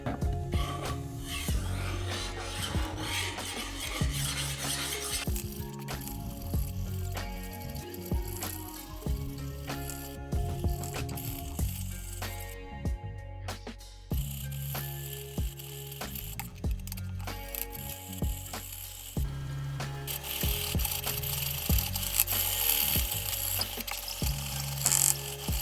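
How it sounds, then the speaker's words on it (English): A kitchen knife edge is worked across a HoneyHone sharpening stone in steady, repeated strokes, a continuous gritty scraping with a mechanical rasp, close up and unbroken by talk. "Now we're gonna sharpen the edge on this side."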